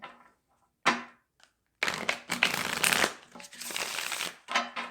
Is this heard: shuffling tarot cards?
yes